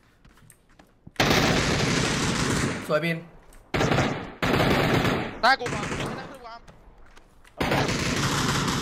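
Automatic gunfire from the video game PUBG erupts in several loud, sustained bursts separated by short gaps, with a player's excited voice talking in between.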